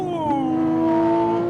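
A Porsche 997.2 GT3 RS engine revs through a downshift, giving a loud, sustained, smooth tone that dips slightly in pitch and then flares briefly at the end.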